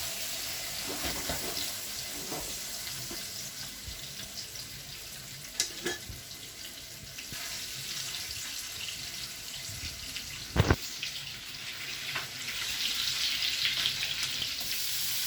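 A large leg of lamb sears in hot oil in a pan, giving a steady, fairly loud sizzle and hiss throughout with a few sharp clinks and handling knocks.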